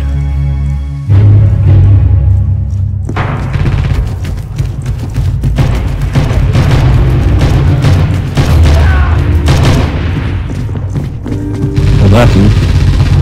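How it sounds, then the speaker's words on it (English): Grenade explosions in the video game Red Orchestra 2 come as a loud boom followed by repeated heavy thuds and gunfire. Game noise stays dense throughout, and voices are heard under it. "Grenades."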